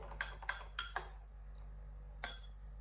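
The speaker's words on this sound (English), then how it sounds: "Give it a good stir." A spoon stirring chocolate truffle mixture flavoured with peppermint drops in a bowl, giving about five sharp clinks against the dish in a loose rhythm, close and fairly quiet with no talk.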